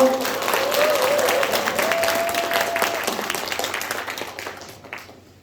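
A crowd applauds loudly and steadily at a Korean Democratic Party presidential election rally, the clapping gradually fading out over several seconds, with a faint tone and murmur mixed in.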